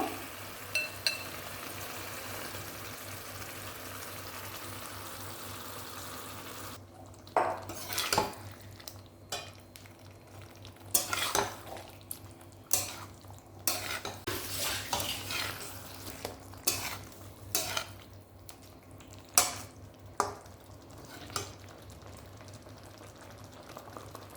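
Marinated chicken with poppy seed fries in a pan: a steady sizzle at first, then repeated metal spatula scrapes and clanks against the pan over continued frying.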